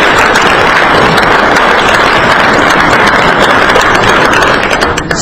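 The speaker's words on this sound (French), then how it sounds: "Je vous prie de les applaudir." The assembly of a national transitional council applauds at the closing of its session, a dense, loud and continuous wash of clapping that fills the hall and eases slightly at the very end.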